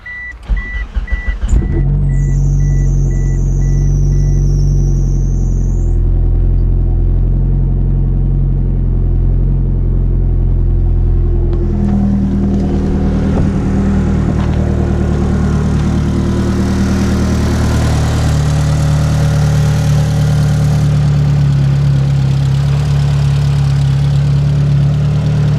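A car engine starts and settles into a steady, loud idle just after the clutch has been bled and thicker oil put in, a continuous low rumble that holds without a break and with no talk.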